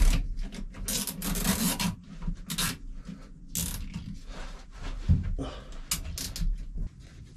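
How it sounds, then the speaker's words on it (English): Plastic wire ties being ratcheted tight around a hose for a Yamaha outboard remote flush installation, giving several close, quick zipping rasps separated by handling rustles. "we're going to fasten it with some wire ties."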